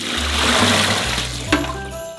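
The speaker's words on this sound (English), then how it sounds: "pour 6 liters of water into a saucepan" Six liters of water pour steadily into a saucepan for a Christmas ham marinade, a continuous close splashing rush with a brief louder splash near the end.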